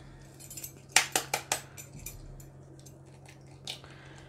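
Three medium-size eggs cracked one after another into cake batter, giving a quick run of sharp close clinks and taps against a bowl, followed by quieter squishy sounds.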